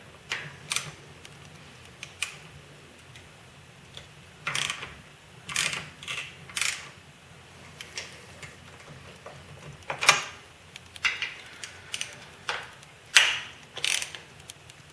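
A ratchet loosening the rocker box bolts on a Harley Sportster XL883L, heard as short bursts of sharp clicking spaced a few seconds apart, close and fairly quiet with still pauses between.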